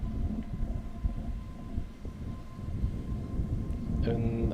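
A KLM Airbus A321 bound for Bergen takes off from Schiphol's runway 36 left, the Polderbaan, as a faint, distant jet roar rumbling under a commentator's voice.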